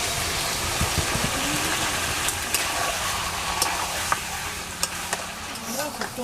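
Desi duck meat sizzles and fries in a hot pan, with a spatula scraping and stirring now and then over a constant crackling hiss.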